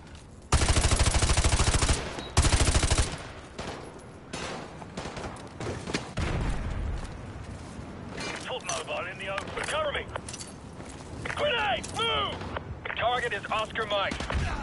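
Call of Duty Modern Warfare 2 combat rattles with loud bursts of rifle and machine-gun fire and frag grenade blasts, dense and close at first, then scattered shots continue while voices talk over the fighting.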